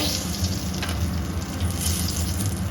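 Five-spice seeds (panch phoron) with dried red chillies and a bay leaf sizzling in hot oil in a pan for a vegetarian mixed-vegetable curry, a steady close crackle and hiss throughout with no talk.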